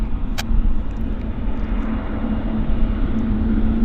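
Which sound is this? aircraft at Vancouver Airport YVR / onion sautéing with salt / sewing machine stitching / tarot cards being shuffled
aircraft at Vancouver Airport YVR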